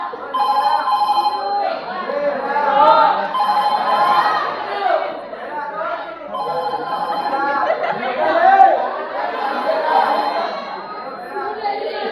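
A telephone rings in repeated bursts on stage during a Kannada drama at a festival hall, the ring pattern clear and close while actors talk over it.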